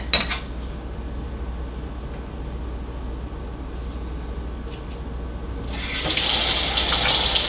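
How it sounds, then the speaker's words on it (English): A water tap opens near the end and runs in a strong, steady gush into a sink, after a long stretch of quiet room hum with a few faint clicks. "Sink."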